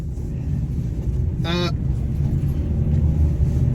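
Steady low engine and road rumble from inside a moving car on the way to Eastbourne, loud and continuous, broken once by a short honk-like tonal blip midway.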